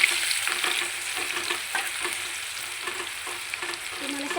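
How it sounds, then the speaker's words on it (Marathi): Cumin seeds and garlic fry in hot oil in a pan, giving a steady close sizzle with light crackles and faint stirring scrapes, and no voices over it. "तेल गरम झालंय आता आपलं ते आता जिरं टाकायचे नंतर लसूण चांगल्या भाजून घ्यायचं"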